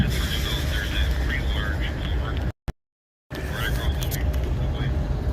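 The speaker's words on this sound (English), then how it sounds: "a lot of cars here are passing by trying to get out of this neighborhood" Cars pass through a neighborhood as a broad, continuous road rumble, broken by a brief dropout of near silence partway through before the traffic noise resumes.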